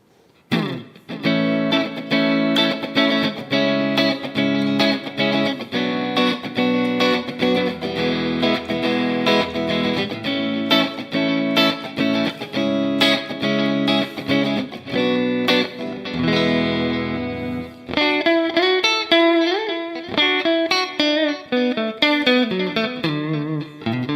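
A distorted electric guitar, a 2020 Japan-made Fender Traditional II 50s Stratocaster, plays sustained chords and riffs with a gritty, saturated tone, loud and continuous, then shifts to a brighter bending lead.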